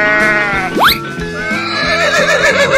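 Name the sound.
horse neighing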